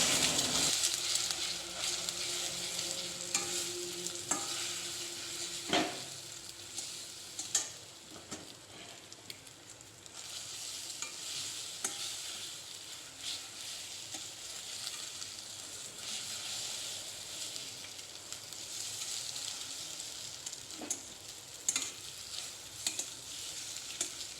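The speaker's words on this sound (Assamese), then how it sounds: "এইখিনি অকণমান নিমখেদি ভাজি ল'ম আৰু একো নিদিওঁ, জাষ্ট নিমখ দিম আৰু ধুনীয়াকৈ ভাজি ল'ম" Two eggs fry in a pan with salt, a soft, continuous sizzle and hiss that lasts a long while, marked now and then by quiet stirring clicks and scrapes.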